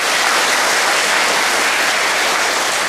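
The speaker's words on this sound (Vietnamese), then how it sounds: "cho một tràng pháo tay" Dense, steady clapping from an audience, a continuous wash of applause that stays loud and even throughout.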